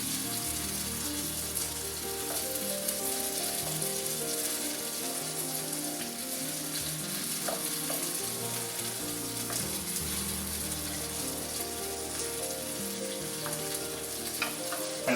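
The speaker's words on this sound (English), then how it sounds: "it's still over there sizzling away" Grouper fillet sizzles and crackles steadily in a frying pan with the heat turned off, a continuous close hiss of hot oil with no voices.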